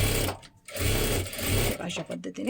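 A sewing machine runs stitches along blouse lining in short bursts, its motor a loud steady hum that pauses briefly and restarts, with someone talking during the last part.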